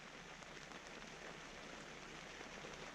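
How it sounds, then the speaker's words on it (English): Rain patters steadily on a tent at a campsite in Sequoia National Park, a soft, even hiss of drops with no voices. "I woke up with the sound of rain hitting the tent"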